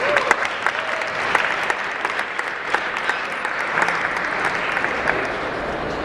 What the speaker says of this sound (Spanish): Pido de favor un fuerte aplauso.